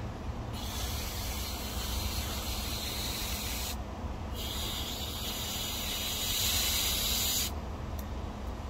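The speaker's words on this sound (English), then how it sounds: "I'll rinse off this brush real quick." A pressure water spray rinses a detailing brush, a loud steady hiss in three long bursts with brief pauses between, close by.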